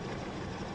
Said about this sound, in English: That's the windmill.